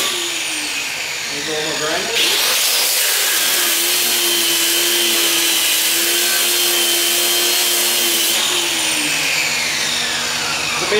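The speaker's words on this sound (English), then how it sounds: "put the 1/8 and 532 disc on there, and then put the Cubitron disc on there. So this is going to square the pipe." An angle grinder fitted with a Cubitron disc squares the end of a 4-inch steel pipe, spinning up to a loud, harsh high grind for about six seconds and then winding down, while someone speaks briefly.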